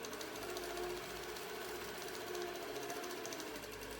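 A sewing machine backstitches a pillowcase seam with a faint, steady rapid mechanical stitching rhythm, close but quiet, with no talking.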